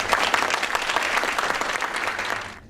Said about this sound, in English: Let's give another round of applause for that